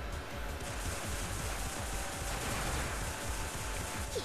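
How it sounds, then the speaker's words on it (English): Rapid gunfire from water-racing weapons in the video game Kandagawa Jet Girls, a dense continuous rattle of shots over rushing water and engine noise throughout. "let's keep on shooting"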